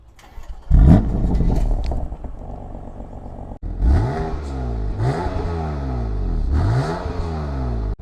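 A BMW F80 M3 Competition with DCT starts with a sharp crank and roar, settles into a rumbling idle, then is revved repeatedly in rising and falling bursts, loud and close.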